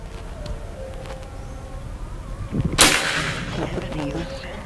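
A single loud shot from a Predator OD38 PCP air rifle, a sharp burst fired outdoors with a brief tail, over steady insect-like background buzz.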